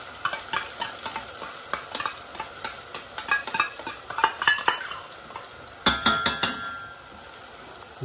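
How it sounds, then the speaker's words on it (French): Tomato coulis going into a sizzling pan for a sardine meatball and vegetable tagine, with steady frying hiss under repeated stirring scrapes and clinks of a utensil against the pan, louder clattering near the end. "On va rajouter notre coulis de tomate."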